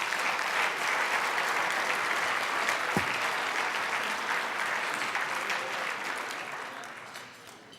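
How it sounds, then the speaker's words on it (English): Sustained audience applause at an awards dinner, a full dense clapping that carries strongly before slowly tapering and thinning toward the end, with one low thump partway through. "Okay, now we can give an applause to all these guys."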